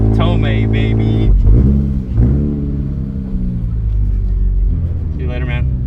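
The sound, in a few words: car engine revving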